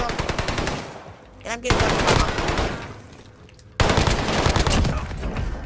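A shooter video game fires loud, rapid automatic gunfire in sustained bursts with a short pause in the middle. A voice speaks briefly over the shots.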